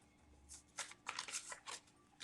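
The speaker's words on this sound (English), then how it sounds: "that's not how I shuffle" Quick riffling bursts of playing cards being shuffled, a few crisp flutters close by in an otherwise quiet space.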